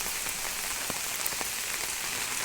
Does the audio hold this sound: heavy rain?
yes